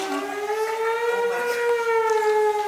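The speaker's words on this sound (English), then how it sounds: "Police sirens begin to sound." A police siren wails continuously, its tone slowly rising and falling, fairly loud and steady throughout.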